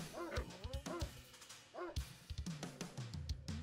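Dogs barking in the Command & Conquer Red Alert strategy game, a few short sharp bursts of yapping spread through the clip, mixed with other game effects and unit sounds.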